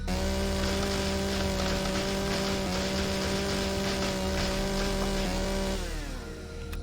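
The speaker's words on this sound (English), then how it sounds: "I'm generally very frugal with the chainsaw. Do not have it running if I'm not absolutely going to town" A chainsaw running in the sci-fi survival game Empyrion Galactic Survival, a loud steady buzzing whine held for several seconds with slight pitch dips, then winding down at the end.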